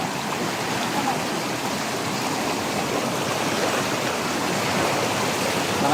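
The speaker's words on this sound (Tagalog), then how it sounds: "Lakas ng tubig, guys." Strong rushing floodwater during Typhoon Uwan in Mindoro, a steady, loud broadband roar of churning water that holds constant throughout with no voices over it.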